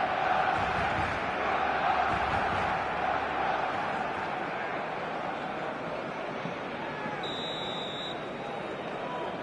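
Stadium crowd in an eFootball video game match, a dense continuous roar of fans at steady loudness with a brief whistle-like tone late on.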